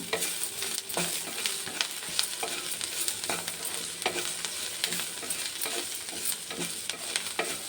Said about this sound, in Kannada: ಆಮೇಲೆ ಇದೇ ಟೈಮ್ಗೆ ಸ್ವಲ್ಪ ಉಪ್ಪು ಹಾಕ್ಕೊಂಡು ಒಂದ್ಸಲಿ ಬಾಡಿಸ್ಕೊಳ್ಳೋಣ